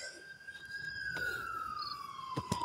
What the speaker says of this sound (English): We just heard a bunch of sirens.